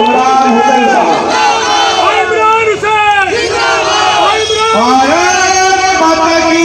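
A large crowd at an Indian election campaign rally for a Lok Sabha candidate roars with continuous cheering and rhythmic, chant-like shouting that stays loud and unbroken throughout.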